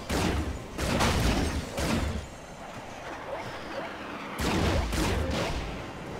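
Rapid bursts of gunfire blasting at robots in the LEGO Ninjago Movie video game, loud, repeated volleys with short gaps, a heavy cluster early on and another near the end.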